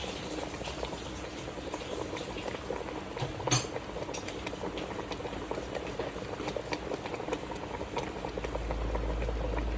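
A pot of sinigang na suno, a Filipino sour soup with clams, boils vigorously with a continuous close bubbling and gurgling that grows slightly louder at the end; no one speaks.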